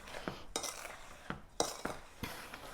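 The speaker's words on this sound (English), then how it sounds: "and just stir it up" A spoon stirs moist sugar mixture in a bowl for a lemon poppyseed pound cake, making about six sharp clinks and scrapes against the bowl at irregular intervals over a quiet background.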